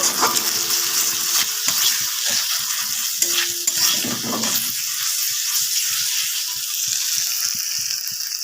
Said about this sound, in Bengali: সব কিছু এবার ভালো করে একটু কষিয়ে নেব